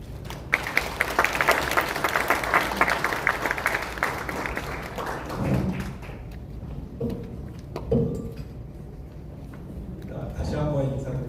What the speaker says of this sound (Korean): 우리 교수님을 큰 박수로 맞이해 주시기 바랍니다.